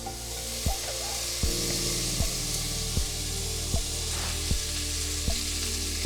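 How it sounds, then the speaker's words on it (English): Frozen bacon frying in a pan on medium-high heat gives a steady, close sizzle, broken by about eight regular scraping stirs spaced under a second apart. "while the bacon is cooking, give it a quick, it's starting to separate nicely and starting to get crisp."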